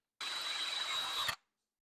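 Wooden baby rattle spun on a wood lathe while being sanded, a brief steady high whirring hiss lasting about a second before stopping abruptly, close and fairly quiet.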